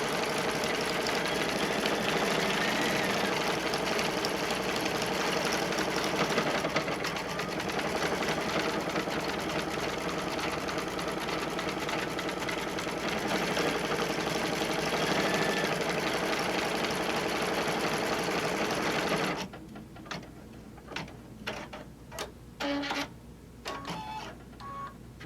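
An embroidery machine stitches a clear vinyl zippered pouch in the hoop through thick, tough layers, producing a loud, dense, continuous whirring rattle that breaks into choppy, irregular bursts of separate stitches near the end.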